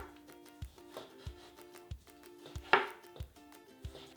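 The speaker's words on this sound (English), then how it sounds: "The next thing we're gonna cut is the tomato." A knife chops a juicy tomato into thin slices on a board, quiet rhythmic thuds about two per second with one sharper, louder knock midway.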